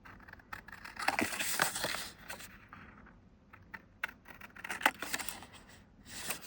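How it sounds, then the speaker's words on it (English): Scissors snip through double-sided paper in a quiet indoor craft setting, with several short irregular bursts of cutting and rustling, close and fairly faint, with no talking. "I am just cutting down paper."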